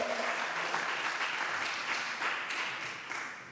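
Steady applause from a crowd, many hands clapping at once in a dense wash, fading slightly toward the end.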